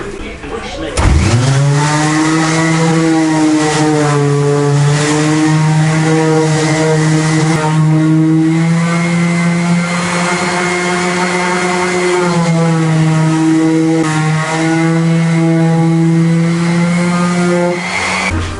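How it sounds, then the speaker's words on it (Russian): A Zubr eccentric orbital sander works on wood for a balcony cabinet, its motor spinning up after a second into a loud, steady, continuous hum that holds through to the end. "Для этого мы используем вот такую центриковую шлифмашину Зубр."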